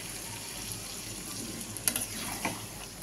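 A little water trickles into a simmering chicken curry with potatoes and papaya, a faint, steady pour over low background noise with a couple of brief splashy accents.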